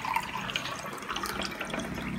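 Water is poured steadily into a glass during a classroom science demonstration on mixing liquids, giving a continuous close splashing trickle for about two seconds with no speech.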